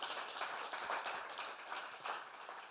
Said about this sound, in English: Let's give another round of applause for all the people that came up here and shared.